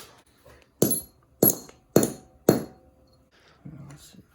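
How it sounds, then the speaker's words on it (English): Four sharp metallic hammer strikes on a metal cable end ring out at a steady pace, close by and loud, followed by a brief quieter clatter, during lifter replacement on a 3.8-litre Mustang. "gonna go ahead and hammer away at that puppy"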